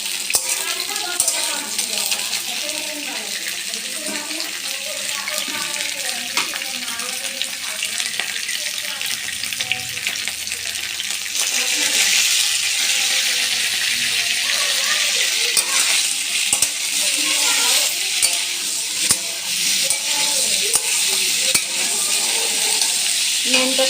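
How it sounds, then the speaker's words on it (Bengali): Cauliflower florets fry in hot oil with a continuous bright sizzle and crackle that swells louder partway through, along with intermittent stirring and soft clinks. "ফুলকপিগুলো ভাজা হচ্ছে"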